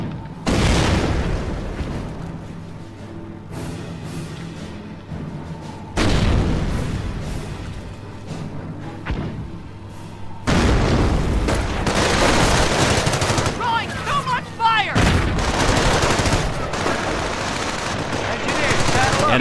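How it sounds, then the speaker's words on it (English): Dense bursts of machine-gun fire and heavy booming artillery explosions from the Company of Heroes WWII strategy game, loud and sustained, with game voices heard over the battle. "Base is taking fire."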